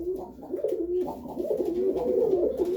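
Serbian Highflyer pigeons coo steadily and close by in a loft during a cleanup, a continuous low warbling murmur of overlapping calls with no speech.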